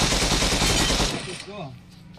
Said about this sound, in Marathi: फायरिंग चालू आहे वर, फाईट चालू आहे